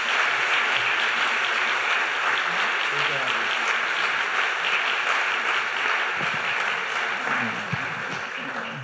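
An audience gives sustained, loud applause in a campus hall to welcome Secretary Arne Duncan, a dense steady wash of clapping that tapers slightly toward the end.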